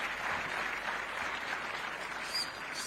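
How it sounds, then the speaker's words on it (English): A conference audience claps in dense, steady applause for job-creation reforms at a private sector day event, a continuous wash of many hands held at moderate level throughout, with no voices over it. "I think we must clap for these reforms."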